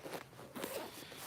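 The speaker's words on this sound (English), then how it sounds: "I'm trying to see to start my zipper." A zipper on clothing tugged outdoors at a state park, a couple of brief scratchy rasps, close but faint over low background noise.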